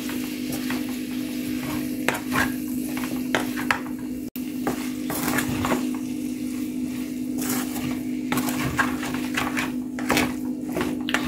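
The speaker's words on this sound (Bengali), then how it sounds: "সবকিছু দেওয়ার পরে নেড়ে দিচ্ছি।" Capsicum and salt fry in a pan for Maggi noodles under a steady sizzle, with repeated scraping stirs and clinks of utensil against the pan running throughout.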